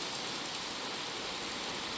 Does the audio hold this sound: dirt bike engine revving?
no